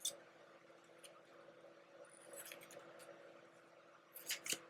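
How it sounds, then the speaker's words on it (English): Scissors snip through clear tape while edging a journal, a few quiet crisp cuts with a sharper cluster of snips near the end, close and alone. "I'm gonna just do this with the scissors"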